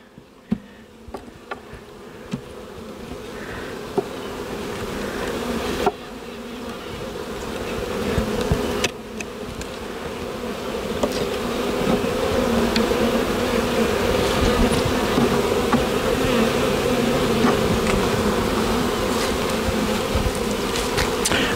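Honey bees swarm around a hive, a dense, steady buzz of many insects that grows slightly louder and fuller over time, close and continuous with no talking.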